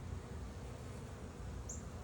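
Honey bees on a brood frame of an open hive make a low, faint, continuous buzzing drone that stays even throughout, with no voices.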